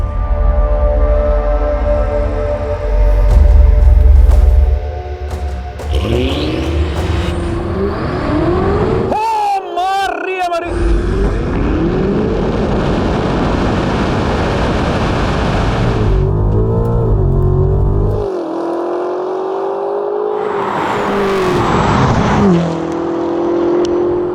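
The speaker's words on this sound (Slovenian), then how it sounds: "Zdaj pa ena hitra limuzina. BMW M5, tale je iz Bele krajine. 850 konjev" A BMW M5 sports sedan tuned to about 850 horsepower launches hard on asphalt, its engine roaring loudly up through the gears with sharp shift breaks and rising revs, close and dominant, with some tire noise.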